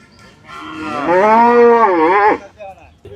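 A single loud, close cow moo at a busy cattle market, rising and sustained for over a second before trailing off, with faint background noise after.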